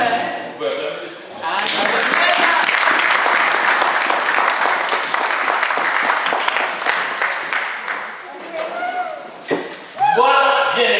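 A church congregation breaks into sustained applause, a dense wash of clapping that swells after a short opening and fades near the end, with voices calling out over it and someone speaking before and after.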